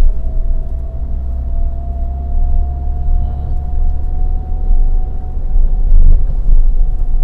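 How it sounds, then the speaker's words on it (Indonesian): Toyota Avanza engine running in gear on a drive toward Tawangmangu, a loud steady drone with a constant hum throughout and no clear pitch drop. "Ini dia turun RPM-nya, kita oper ke 2. Nih gigi 2 ini."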